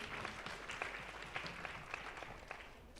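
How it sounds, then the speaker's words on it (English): Audience applause at the closing session of a conference on women and work in Asia and the Pacific, continuous distant clapping heard faintly and evenly throughout. "Another round of applause, ladies and gentlemen."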